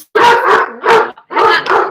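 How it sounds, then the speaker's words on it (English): Several dogs bark loudly and excitedly at a house as a car pulls into the driveway, in quick repeated bursts close by with little pause between them. "Donnie just pulled in the driveway, and so the dogs are going bananas."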